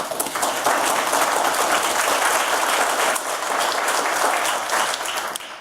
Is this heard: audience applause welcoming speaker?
yes